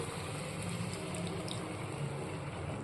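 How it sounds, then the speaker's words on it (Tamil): Tamarind water is poured into a pan of dried-fish and chickpea kuzhambu curry, making a faint, steady watery pour without talk. "இப்போ இந்த கருவாட்டு குழம்புக்கு தேவையான புளி தண்ணி நம்ம சேர்த்துக்குவோம்"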